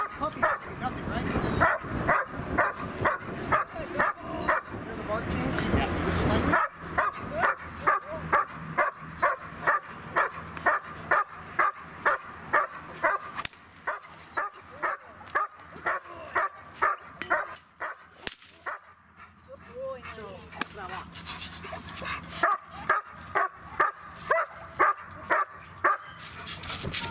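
A dog barks repeatedly in a steady run of sharp yaps, close up, with whimpering whines mixed in and a brief pause partway through.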